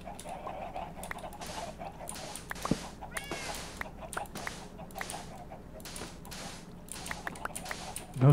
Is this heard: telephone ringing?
no